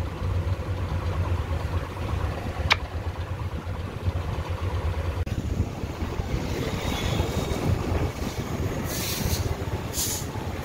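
Sea waves wash onto the shore in a continuous rushing surf, heavy with wind buffeting the microphone, fairly loud and steady throughout.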